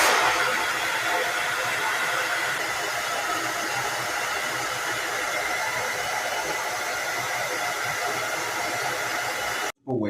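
A hair dryer on its cold-shot setting blows a steady, loud airy roar for nearly ten seconds close to the microphone, then cuts off abruptly near the end.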